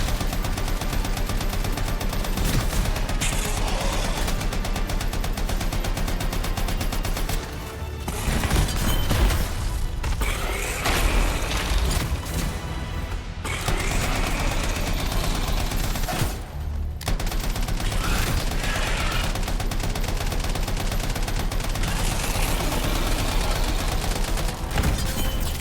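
A light machine gun fires in the video game Anthem, with loud sustained automatic bursts and explosions, continuous near gunfire with brief pauses.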